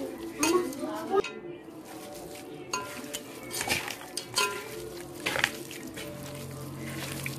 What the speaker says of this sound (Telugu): సో వీటన్నింటిని మనం బాగా కలుపుకోవాలి, ముక్కలకి వేసుకున్న ఇంగ్రీడియంట్స్ బాగా పట్టే విధంగా బాగా కలుపుకోవాలి